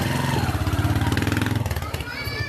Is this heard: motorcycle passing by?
yes